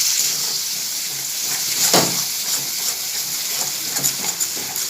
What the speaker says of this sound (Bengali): এবার আমি এর মধ্যে টক দইটা দিয়ে দেবো, দিয়ে আবার একটুখানি নাড়িয়ে নেব।